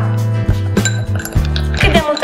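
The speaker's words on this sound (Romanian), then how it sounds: "Adăugăm gheața, eu adaug la mine," Ice cubes clink and knock into glasses while a mojito is being made, several sharp bright clinks in quick succession as a person talks over them.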